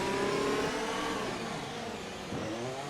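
Race car engine in a racing video game, revving steadily as the car drives into the pits, with a sustained mid-pitched drone that eases slightly partway through, close and fairly loud with no talk.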